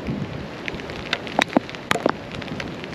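Rain falling on a golf course makes a soft, continuous patter, broken by a few sharper, closer drips and taps.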